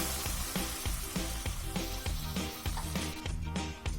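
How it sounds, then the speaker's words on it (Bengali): Spice masala paste frying with water in a pan, a loud, continuous sizzle with steady rhythmic scraping of stirring throughout, no talk. "এরপর এতে আমি জল দিয়ে এই মশলাটা কষাচ্ছি।"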